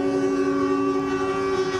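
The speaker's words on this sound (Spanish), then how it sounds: "a los transportistas tocando la bocina porque claramente no tienen una vía exclusiva para poder andar más rápido" Truck drivers sound their horns in heavy traffic at a sanitary checkpoint cordon in Talcahuano, giving a loud, continuous, droning horn blast that holds steady for the whole moment without speech.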